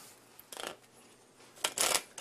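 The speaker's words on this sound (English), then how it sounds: "just shuffle them together" A deck of playing cards being shuffled in two quick riffling bursts, close and crisp, with a short pause between them and no talk over it.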